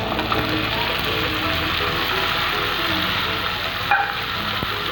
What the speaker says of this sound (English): And saute them for 2 to 3 minutes.